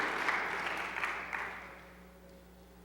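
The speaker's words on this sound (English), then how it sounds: "You can clap with that. Give faith a hand" A church congregation claps for a few seconds, a burst of applause that fades steadily, leaving a faint low hum.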